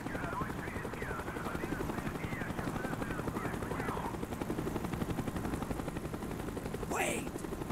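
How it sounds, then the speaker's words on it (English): A helicopter in the Call of Duty Black Ops campaign, its steady rapid rotor chop running continuously under game sounds and brief voice fragments, with a sharp sweep near the end. "The chopper is coming around again."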